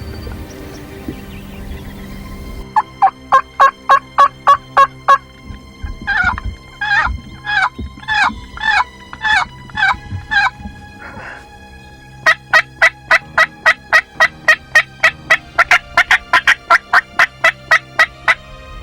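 Several wild turkey gobblers call from a roost outdoors in loud repeated bursts of rapid rattling gobbles, close by and overlapping, with a low background hum and brief pauses between volleys.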